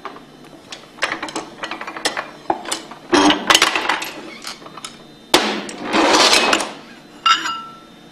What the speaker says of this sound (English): we can use that to remove the shaft and rotor assembly